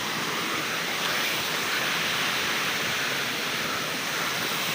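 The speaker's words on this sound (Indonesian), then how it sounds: "ini air terjun yang sangat alami." Natural waterfall at the first rest post on a mountain hiking trail, a steady loud broadband rush of falling water, continuous and close, with no other sounds over it.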